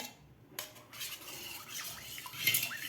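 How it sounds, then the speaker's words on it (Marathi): Cooked jowar flour is stirred into buttermilk with a spoon in a pot, giving soft, close scraping and sloshing with a few light clinks against the vessel and no voices. "व्यवस्थित हलवायचं आहे पीठ यामध्ये गाठी नाही झाले पाहिजे"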